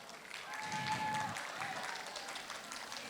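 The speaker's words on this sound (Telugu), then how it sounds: "Big round of applause." Applause from an audience after a dance school's student performance at a Telugu community Golden Jubilee kick-off event in Houston, a dense steady patter of clapping that holds across the clip at moderate level.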